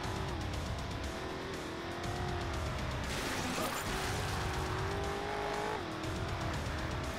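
A car driving in the video game Carmageddon: Reincarnation: a loud, unbroken engine roar with shifting pitch and tire squeal, steady and close throughout.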